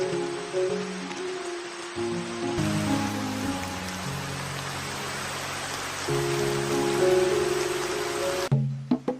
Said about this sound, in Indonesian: rebahan di shelter bambu pas hujan deras di tengah hutan Sulawesi.